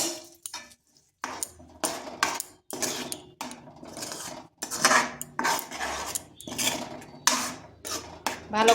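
Hot lentils are stirred with chilli powder and spices in a pan, a steady series of scraping and clinking utensil strokes against metal, close and rhythmic, without talk.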